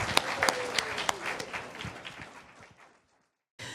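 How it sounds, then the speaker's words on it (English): A church audience applauds its volunteers in a burst of clapping that thins out over about three seconds and stops, then a short sound returns near the end. "So let's give them, all of you, another round of applause."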